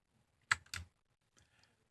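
Computer keyboard with a few sharp key presses, two close clicks followed by fainter taps a moment later, isolated in a quiet room.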